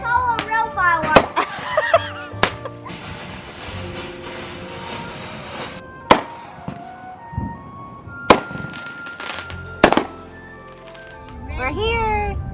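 Several sharp Fourth of July fireworks bangs go off at irregular intervals, each followed by crackling, with people talking and exclaiming between the blasts.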